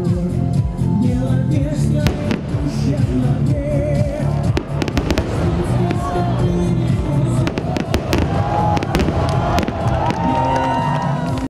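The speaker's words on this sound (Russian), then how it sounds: "Апогеем вечера стали залпы салюта, которые тысячами разноцветных огней зажигались и рассыпались в небе." Salvos of festive fireworks burst in the night sky over an evening celebration, a rapid run of loud cracks and booms layered over a cheering, whooping crowd.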